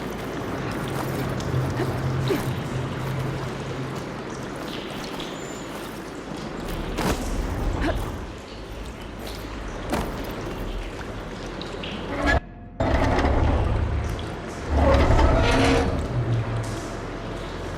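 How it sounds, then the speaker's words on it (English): Water rushing and flowing into a room in the video game Horizon Forbidden West, a steady broadband wash with a brief sharp cutoff midway before the flow resumes louder, under ambient game sounds. "Aloy, I can hear water in the room again"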